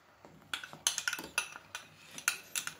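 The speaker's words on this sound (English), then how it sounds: "So now I'm going to add the remainder of the ghee that I have." Metal spoon clinking against a pan while ghee is added to broken wheat kesari, a run of quiet, close, irregular taps and scrapes arriving every fraction of a second with no talking.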